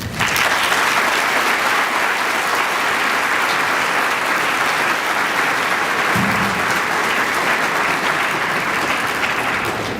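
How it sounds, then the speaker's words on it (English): Sustained applause from a graduation audience honoring the graduating class, a dense, loud wall of clapping that continues evenly throughout with no speech over it. "So I want to give you a round of applause."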